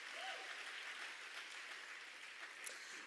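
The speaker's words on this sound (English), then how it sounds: "give her a round of applause" An audience applauds at an arts education awards ceremony, a steady wash of clapping from many hands throughout, with a slight swell near the end.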